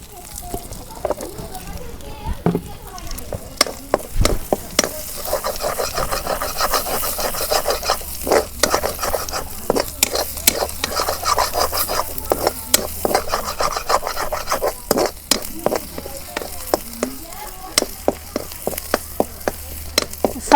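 Cumin seeds tempered in a pan are stirred with a wooden spoon: repeated scraping and rubbing strokes in an irregular rhythm over a soft sizzle, with a voice talking now and then.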